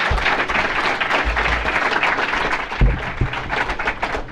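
A startup conference audience applauds Patrick Collison of Stripe, a dense, sustained wash of clapping from many hands, steady and fairly loud, with a few heavier thumps near the end.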